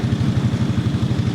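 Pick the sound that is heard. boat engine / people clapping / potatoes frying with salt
boat engine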